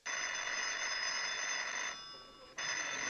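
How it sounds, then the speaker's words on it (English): An old telephone bell rings loud and continuous, cuts off briefly, then starts ringing again. "Phone's ringing, Sam."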